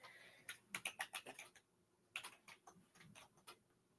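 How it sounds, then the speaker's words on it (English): Keys on a computer keyboard clack in quick bursts of typing, close and fairly loud, with a short pause between runs. "Let's try this again with my loud keyboard."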